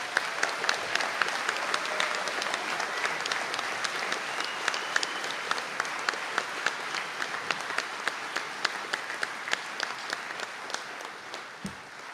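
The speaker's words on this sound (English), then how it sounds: "I think that deserves a round of applause." Sustained applause from a graduation conferring ceremony audience in Donegal, many hands clapping together at a moderate distance, fairly soft overall and fading slightly toward the end.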